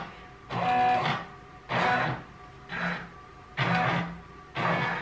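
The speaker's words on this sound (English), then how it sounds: "I'm gonna find where it's gonna embroider." An embroidery machine moves in five short mechanical bursts while tracing design placement on a sweatshirt sleeve, each whirring hum lasting about a second with brief pauses between, close by and without speech.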